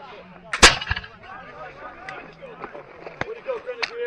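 Grenadiers at a battle reenactment fire muskets, one sharp loud crack followed by scattered fainter shots, while commanders shout orders around them outdoors.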